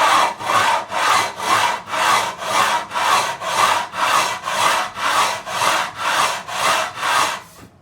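Steady back-and-forth strokes of 240-grit sandpaper on a 9.5-inch radius beam rub across a Telecaster's wooden fretboard, about thirteen even, close swishes with no talking.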